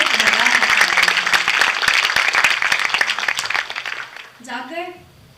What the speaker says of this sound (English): let's have a huge round of applause for our parents